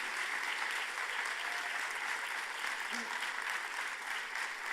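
Sustained, dense applause fills an auditorium at a closing-ceremony forum, steady and even throughout without pauses, a broad wash of many hands clapping at moderate distance.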